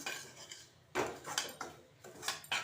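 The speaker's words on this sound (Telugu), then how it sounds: "రవ్వ బాగా వేగాలి, అందుకని రవ్వ వేస్తున్నా." A spoon scrapes semolina around a pan as it roasts, faint and close, with irregular scratchy strokes about every half second.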